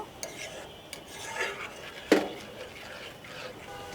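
Tamarind pulp being stirred with sugar in a pan for a sweet-sour olive pickle: soft scraping and rubbing of a utensil against the pan, with one sharp metallic clink partway through, moderately close.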